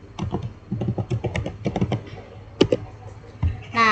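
Commands are typed on a computer keyboard to configure a Cisco network switch, giving a quick, uneven run of close, crisp keystrokes with brief pauses and a few harder taps near the end.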